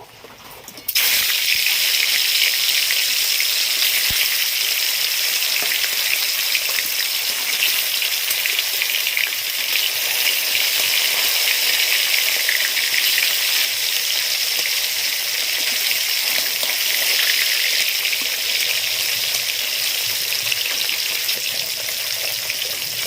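Pieces of snakehead fish fry in hot oil, a loud continuous sizzle that bursts in suddenly and then holds a bright, steady hiss with faint crackles, without any speech.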